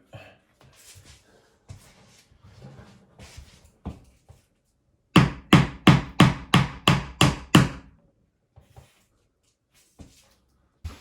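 Tacks hammered into a plaster wall: a quick run of about eight sharp, evenly spaced hammer blows close by, preceded and followed by scattered lighter taps and handling knocks, with no talking.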